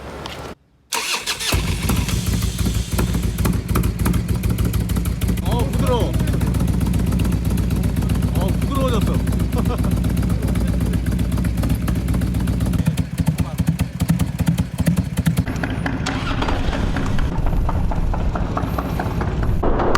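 Used Harley-Davidson Road King motorcycle with carburetor, fresh from an engine, transmission and primary oil change, starts after a brief pause and settles into a loud, steady V-twin rumble that runs throughout, with people talking over it.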